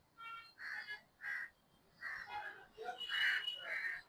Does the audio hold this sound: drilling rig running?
no